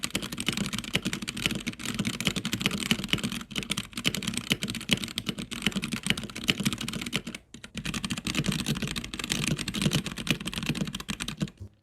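Steady, fast typing on a modded Womier/Gamakay K87 mechanical keyboard, dense close clacks of the keys running continuously with a short pause partway through.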